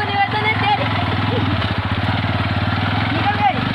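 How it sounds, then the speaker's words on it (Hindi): A motorbike labours along a badly damaged village main road, its engine chugging steadily and close by with uneven revving throughout, while people talk over it. "ये देखो अब बड़ी मुश्किल से इसकी बाइक निकलेगी।"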